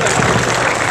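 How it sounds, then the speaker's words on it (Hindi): A crowd at the inauguration ceremony of Nature Park in Churu gives steady, dense applause that fills the moment loudly and evenly. "एक बार ताली बजाकर अपनी उपस्थिति जरूर दर्ज करवाएं"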